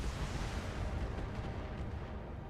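Mortars fire in the BattleTech video game, a dense, continuous rumble of blasts and deep booms rolling on without pause, fairly quiet overall and with no voices.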